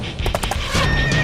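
A horse gives a short whinny over the clip-clop of its hooves, close and fairly loud, heard alone without voices in a retelling of the Bundelkhand legend of Aalha Udal.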